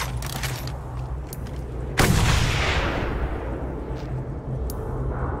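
Gunfire in the Mad Max video game: scattered distant shots give way to one loud, close blast whose rumbling echo trails away over several seconds, over steady background game noise.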